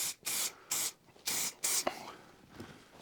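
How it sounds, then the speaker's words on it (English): Silicone spray aimed at foam-cutting blades for upholstery foam: five short, loud hissing bursts in quick succession, followed by faint handling noises. "I've just sprayed the blades with some silicone."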